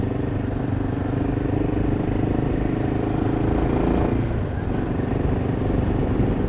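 A motorcycle ridden alone along Dal Lake in Kashmir gives a steady, close engine drone mixed with rushing wind rumble, holding constant throughout.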